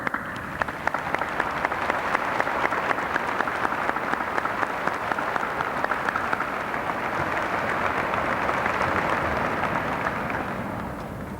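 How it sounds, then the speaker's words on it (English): Large commencement audience applauding graduates' families as they stand, a sustained, even wash of many hands clapping that fades slightly at the end. "let's give you a round of applause."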